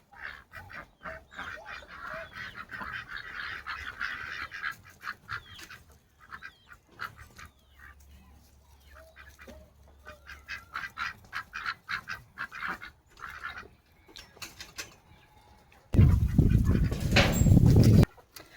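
Farm ducks quack and honk on a morning farm in a busy, overlapping chorus of short calls, some close and some further off, ending in a loud rustling burst.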